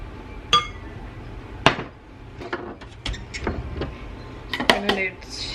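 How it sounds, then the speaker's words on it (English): Sugar and dry ingredients are stirred together in a bowl, heard as scattered close clinks and scrapes of a utensil against the dish, irregular and uneven over a quiet background. "I'm just going to go in and stir this together."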